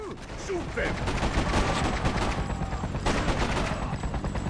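Gunfire in the Freedom Fighters video game, a dense, sustained burst of shots and rattling fire running loud throughout, mixed with game effects.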